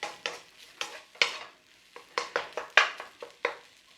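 A spatula stirs sweet and sour chicken egg fried rice in a hot pan, giving a run of sharp, irregular scraping and sizzling bursts, close and fairly quiet.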